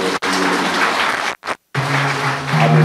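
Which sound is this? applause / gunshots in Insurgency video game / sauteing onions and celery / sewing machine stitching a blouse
applause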